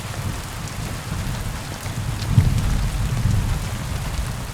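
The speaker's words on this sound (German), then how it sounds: "wenn ein Gewitter ranrollt und man hört in der Entfernung die ersten Donner und irgendwann ist es dann direkt über einem" Thunderstorm in Kingdom Come Deliverance 2: steady heavy rain on surfaces with a low rolling rumble of thunder swelling midway.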